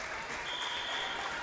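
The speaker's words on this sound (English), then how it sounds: "Crowd getting into it. They're clapping." A crowd at a high school volleyball match claps steadily and fairly loudly in a dense, continuous patter, while a faint tone runs underneath.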